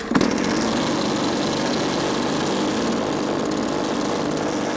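A small engine on a homemade water jet surfboard fires up with a sharp catch and settles into a loud, steady, buzzing run that holds without a break.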